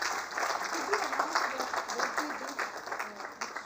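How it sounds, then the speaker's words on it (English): A crowd at an awards ceremony claps and applauds continuously, a dense patter of many hands with some voices mixed in. "Can we have a huge round of applause"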